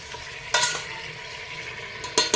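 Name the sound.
mutton being stirred and fried in masala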